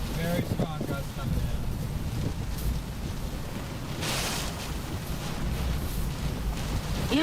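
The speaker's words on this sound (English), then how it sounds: "Very strong gusts coming" Strong wind gusts from Hurricane Ida roar as a steady broadband rush buffeting the microphone, surging louder around the middle, with faint voices beneath the noise.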